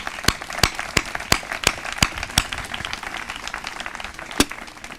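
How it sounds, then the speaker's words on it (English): An audience claps for the event sponsors at a 2014 community celebration: a sparse patter of sharp, distinct hand claps from a fairly small group, with a few louder single claps standing out over about five seconds. "if you wouldn't mind clapping for our sponsors"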